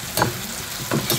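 Bitter gourd with fish head frying in a pan, stirred with two short scraping bursts of sizzle close by, alone with no talk.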